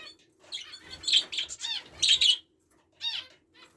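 Canaries and green finches chirp and twitter in an aviary, with quick bursts of bright, close calls separated by short pauses and no voices.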